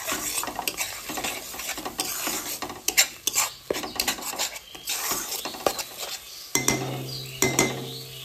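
Cashew and yogurt paste being stirred into fish pieces in a pan for Bengali doi katla, with repeated scraping and clinking of a spoon against the pan and a light sizzle throughout.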